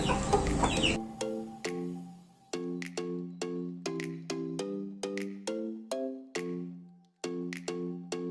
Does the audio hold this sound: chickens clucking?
yes